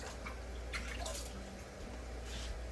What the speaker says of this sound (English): And then I rinse the egg off.